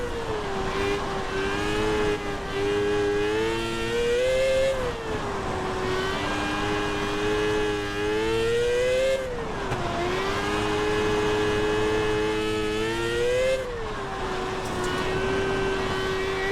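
A micro sprint car engine in the iRacing simulator drones loud and close, its pitch rising and falling in repeated waves as the throttle is fed in and eased off, with no speech over it.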